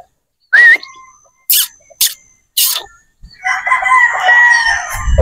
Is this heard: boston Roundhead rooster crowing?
yes